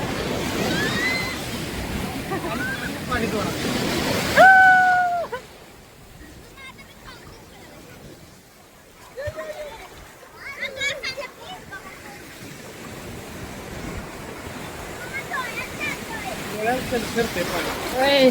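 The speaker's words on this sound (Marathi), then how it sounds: "पाणी सरसर इकडं बघू शकता" Water rushing at the seaside at Ganpatipule, a loud continuous broadband wash that dips partway through, with people talking nearby.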